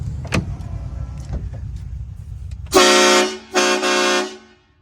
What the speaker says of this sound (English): That's the train horn.